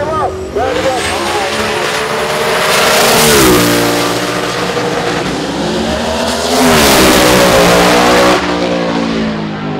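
Drag race cars, including a 1964 Rebel, launching at a qualifying session: loud engines roar and rev in rising sweeps, close by, while people talk over the noise.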